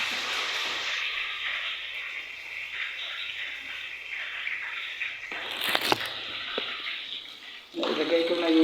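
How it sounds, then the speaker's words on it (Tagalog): Steady broadband hiss and bubbling of water boiling in a pot, continuous throughout with a brief louder burst midway and a sizzle near the end, in a residential accommodation in Riyadh. "kumukulo na"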